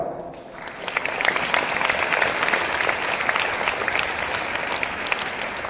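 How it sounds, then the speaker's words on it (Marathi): An audience at an Ashadhi Ekadashi Naradiya kirtan bursts into sustained applause, dense rapid clapping swelling after a quiet start and continuing strongly throughout. "एकदा तुमच्याकरता तुम्हीच टाळ्या वाजवा"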